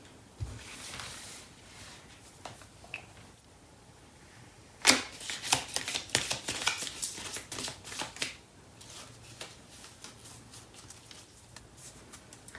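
A Starseed Oracle card deck being shuffled: soft riffling at first, then a louder, dense run of rapid card flicks and slaps in the middle before easing back to quieter shuffling, close up with no talking.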